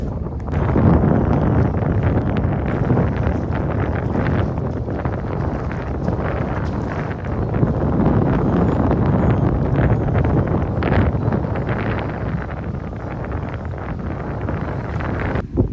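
Steady, heavy wind buffets the microphone throughout while fishing outdoors, a continuous low roar with gusty swells and no clear pauses.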